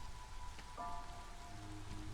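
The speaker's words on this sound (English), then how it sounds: "I feel like basically all music becomes better when you add rain sound effects." Steady rain pattering on surfaces in the video game Against the Storm, a continuous soft wash of drops under faint music tones.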